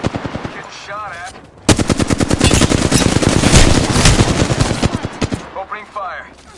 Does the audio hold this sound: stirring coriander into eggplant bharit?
no